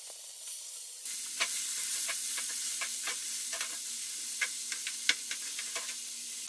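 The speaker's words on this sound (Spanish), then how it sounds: "Vamos a incorporar ya la verdura que cortamos al sartén." Chopped vegetables frying in hot oil in a pan: a steady sizzle starts abruptly as they go in, with light stirring clicks and pops throughout, close and alone.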